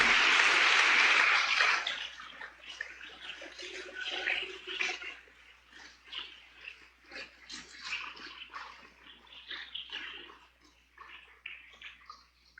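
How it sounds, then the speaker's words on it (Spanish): Church congregation at a Sunday school service claps, a loud dense wash of applause at first that settles into scattered, softer clapping and murmuring for several seconds. "Dele ese aplauso al Señor."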